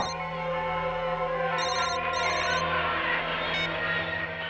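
A telephone ringtone trills in short repeated electronic bursts over a steady low hum and background music, close and clear.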